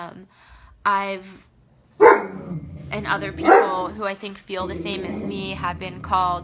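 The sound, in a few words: dog barking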